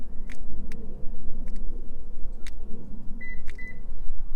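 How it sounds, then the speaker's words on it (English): Several short electronic beeps from a 2011-or-newer Toyota 4Runner during key programming, two clearer paired chirps near the end, over a low engine-like rumble with clicks scattered throughout. "So take this, listen for a beep."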